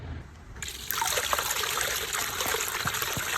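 A Growneer submersible pump garden fountain runs, its water trickling quietly at first, then rising abruptly into a fuller, louder, continuous splashing flow after the setting is turned up.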